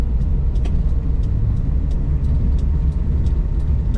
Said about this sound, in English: Today we're driving a 1932 Ford 3-window coupe in a brilliant metallic orange